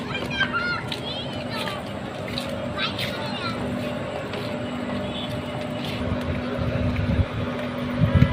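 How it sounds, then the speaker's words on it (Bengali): A boat crossing a river carries a steady low drone throughout, with people and children chatting over it nearby. "নৌকাতে মানুষ ঘুরতেছে। হ্যাঁ, ওই নদী পার হইতেছে।"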